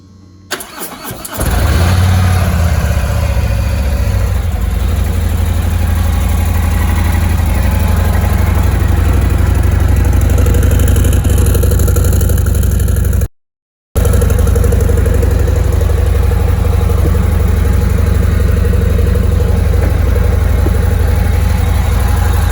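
A Harley-Davidson CVO motorcycle engine cranks and fires, then settles into a loud, steady, rumbling idle that runs on for about twenty seconds with one brief dropout.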